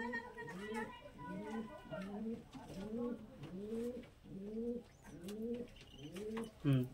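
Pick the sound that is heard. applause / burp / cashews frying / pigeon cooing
pigeon cooing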